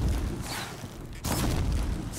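Fire rope weapon detonating in the Horizon Zero Dawn video game, a dense, roaring burst of explosive noise that dips briefly and then erupts again with a second loud blast, filling the whole clip.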